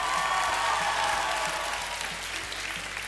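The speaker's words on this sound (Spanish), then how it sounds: "un aplauso para él" Audience applause at a Spanish comedy talk show, a dense, steady clapping sustained throughout and fairly loud, with no voices over it.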